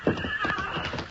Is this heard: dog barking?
no